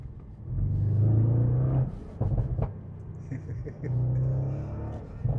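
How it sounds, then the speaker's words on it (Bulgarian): Deep, throaty Audi RS6 Performance engine rumble that swells and settles in two long revs, with exhaust crackle and pops between them, loud and close. "Звука е много голяма част от цялото театро, което предлага тази кола. Гърлен, дълбок."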